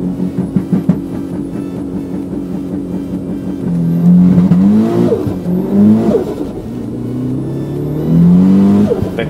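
A tuner car at a drag strip launches hard from the Bandimere Street Tuner event, its engine revving loud and rising in repeated surges as the slipping clutch fails to grab, with no talk.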